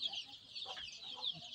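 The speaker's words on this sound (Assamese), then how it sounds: "স্ক্ৰিনত যিবোৰ মুৰ্গীৰ পোৱালি দেখা পাইছে এইবোৰ অৰিজিনেল লোকেল মুৰ্গী হয়" Local chicken chicks about twenty days old on a poultry farm keep up a dense, continuous high-pitched peeping and cheeping, soft and close, with no one talking.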